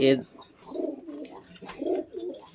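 Home-kept pigeons coo nearby in two soft, throaty rolling phrases separated by a brief pause.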